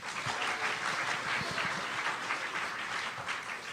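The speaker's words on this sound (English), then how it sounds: "By applause, do people like Batman?" A comedy audience at a convention show applauds in answer to a question about Batman, a continuous dense patter of clapping that is fairly distant and soft, with no voices on top.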